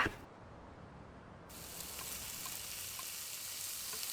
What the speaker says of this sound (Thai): น้องเอาไปทอดแพนเค้กค่ะ